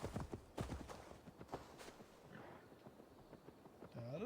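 A horse's hooves clip-clop at a walking pace in the game Assassin's Creed Valhalla, as a series of quiet, irregular thuds over soft background noise, with a brief tonal rise near the end.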